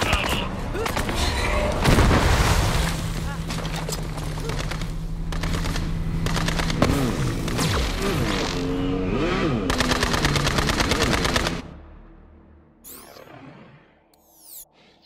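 Gunfire in the shooter video game Borderlands 3: sustained rapid weapon fire and heavy booms over game sound effects, cutting off abruptly near the end into quieter ambience.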